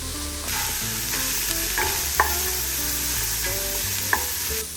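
Onions, leeks and fennel sauté in a soup pot, a steady close sizzle with a few soft stirring knocks and scrapes, no voices.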